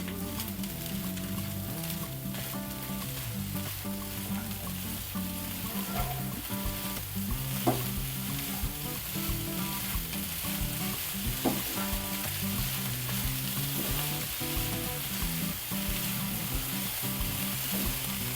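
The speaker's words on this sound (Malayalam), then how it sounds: "ഇതെല്ലാം കൂടെ ഒന്ന് മിക്സ് ചെയ്യാം." A mung bean filling with ground cardamom sizzles steadily in a hot pan while being stirred, with soft scraping and crackling throughout and no talk.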